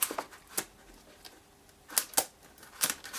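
A pair of poor-quality scissors makes several sharp, close snips, some single and some in quick pairs, separated by quiet pauses.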